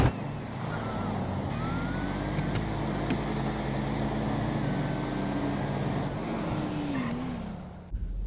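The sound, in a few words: cars drag racing in video game GTA V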